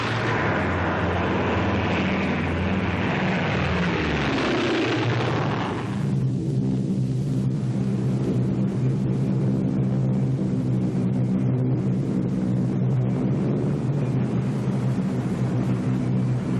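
Multi-engine drone of B-24 bombers flying drop tests over the Isthmus of Panama, a steady loud hum with layered harmonic tones that swells after an opening rush of broadband noise and continues unbroken.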